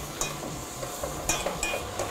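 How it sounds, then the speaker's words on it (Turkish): Eggplant being stirred into roasted flour in a pan, soft scraping strokes with light clinks of a utensil against the pan, fairly quiet and close, with no talking. "Bir süre daha karıştırmaya devam ediyoruz."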